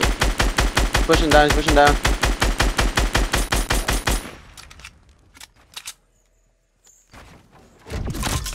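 Rapid automatic gunfire from Fortnite Battle Royale rattles in a steady close burst for about four seconds, then breaks off into scattered quieter shots and brief silence, with a player talking over the fight.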